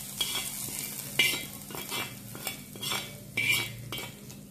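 Tempering for anchovy thoran is poured into the pan and stirred, giving a crackling sizzle broken by repeated scrapes and clinks of a spoon against the pan.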